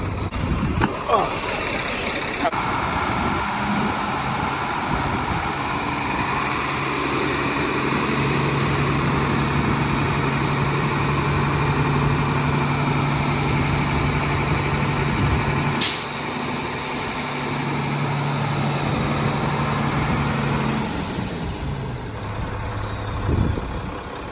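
A 2016 car's engine idles nearby with a low, continuous hum and a faint high whine, and a voice talks briefly over it.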